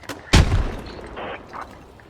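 A single heavy boom of video-game mortar fire, sharp and close, rolls off into a fading rumble, with fainter thuds after it, during an underground tunnel assault in Squad.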